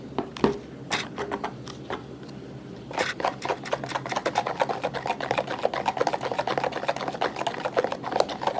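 Gram flour (besan) batter for potato chips being mixed in a bowl, a rapid, close run of clicking, slapping strokes, sparse at first and then continuous and quick.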